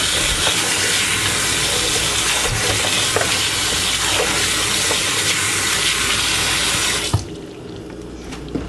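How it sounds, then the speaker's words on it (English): Cold tap water runs hard and steady over boiled pinto beans in a strainer, a loud continuous splashing rush that cuts off abruptly near the end. "Rinse with fresh cold water."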